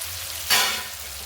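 Vegetables hit a hot pan with a sudden loud sizzle that swells and then settles into a steady frying hiss, close and without talk.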